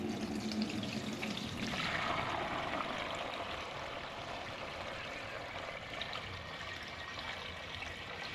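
Ten litres of coolant are poured into the pump tank of a Hare & Forbes BS-7L band saw, making a soft, continuous gurgling trickle of liquid that stays low and steady throughout, with no talking.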